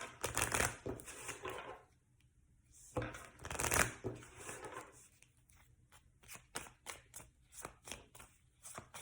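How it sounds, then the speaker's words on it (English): Tarot card decks shuffled by hand, with several close riffling bursts, two long ones early, then a run of quick, shorter flicks and snaps. "So let's shuffle the cards, get one card out of each deck"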